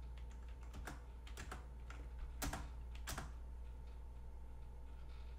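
Computer keyboard keys pressed in quick irregular bursts, a dozen or so clicks with a couple of louder hits near the middle, close and fairly quiet over a low steady hum, no voices.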